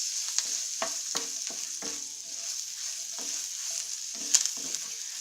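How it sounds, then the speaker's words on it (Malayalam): Red chillies, ginger, shallots and curry leaves frying in a pan for pappadam chammanthi, with a soft steady sizzle under repeated scraping stirs that come every second or so, close by and with no talking. "ഇതിൻ്റെ കളറൊന്ന് ചേഞ്ച് ആവണ പോലെ വറുത്തെടുക്കാം."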